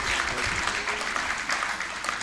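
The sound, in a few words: audience applause at graduation ceremony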